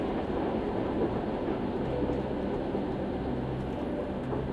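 Train rolling along rails on a cozy night journey, a steady broad rumble and hum with a faint rhythmic undertone, continuous and fairly loud, with no voices.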